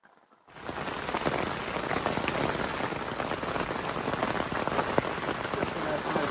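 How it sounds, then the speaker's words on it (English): Torrential rain from the aftermath of Hurricane Beryl pours onto a camping tent, a dense, steady, close roar of drumming drops that starts abruptly and continues without letting up. "Just when I thought it couldn't get any crazier, the rain here is insane."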